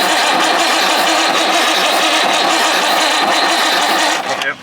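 Old Perkins diesel engine being cranked over, a loud continuous churning drone held steadily for several seconds before cutting off abruptly at the end, close to the microphone.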